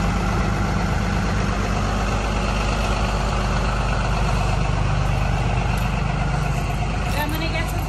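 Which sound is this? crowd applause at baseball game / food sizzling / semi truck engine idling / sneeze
semi truck engine idling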